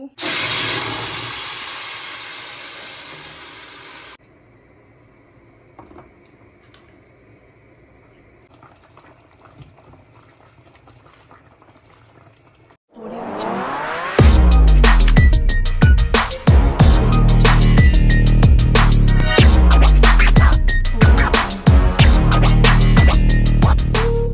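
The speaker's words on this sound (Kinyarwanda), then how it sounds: "ngiye kubiblendinga bya birungo byose, poivro, inyanya, ibitunguru" A kitchen blender grinds spices, bell pepper, tomatoes and onions. A brief hiss comes first, then a long near-silent pause, then a loud, rough motor roar that churns on to the end.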